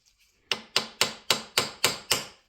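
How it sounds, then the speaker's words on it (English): A hammer strikes a chisel seven times in a steady rhythm, each blow a sharp close metallic crack, driving out a broken bolt on an Ariens snowblower. "got here is a chisel. I'm going to walk this broken bolt out."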